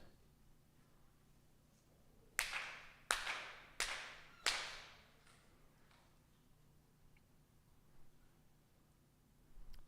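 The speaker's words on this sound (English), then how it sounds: "4 sincere claps" Four deliberate hand claps ring out one by one, evenly spaced and sharp, in a quiet hall during a Konko monthly worship service, each leaving a short reverberant tail.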